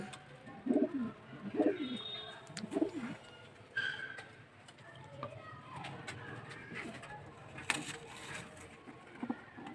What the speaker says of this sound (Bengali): দেখুন এই ঘরেও পায়রা আছে ভাইয়ের প্রচুর পায়রা হয়ে গেছে